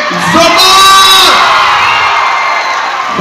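A crowd at an Odisha chief minister's education award ceremony cheers loudly, with whoops, shouts and high whistles in a dense burst that peaks early, then settles into a steadier roar of applause and voices.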